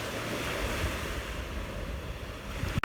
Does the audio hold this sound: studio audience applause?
no